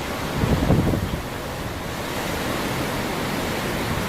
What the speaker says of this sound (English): we're even getting waves on the retention pond over there